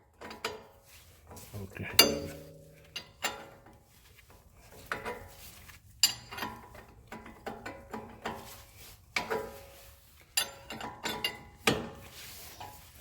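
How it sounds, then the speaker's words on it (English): Metal clinks, ratcheting and scraping as a nut and bolt are removed by hand from the aluminum front suspension of a 2020 Toyota 4Runner with KDSS, irregular close taps and clatters with a brief spoken word. "And now remove the nut bolt."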